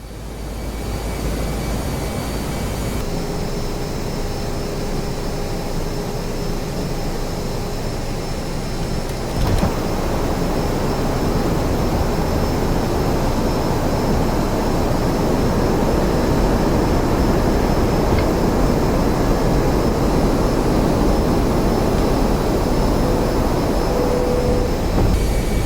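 Airliner engines roar in the X-Plane flight simulator as a continuous, loud, steady jet drone that thickens slightly partway through, with no voices.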